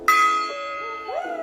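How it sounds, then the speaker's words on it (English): A gong struck once at a tattoo studio rings out with a bright metallic attack, then a long shimmering tone that slowly decays while its pitch wavers and swells near the end. "you get to ring a gong"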